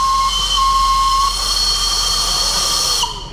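The Darjeeling steam toy train sounds its whistle near Kurseong, a loud, sustained shrill tone over hissing steam that holds for about three seconds and then cuts off abruptly.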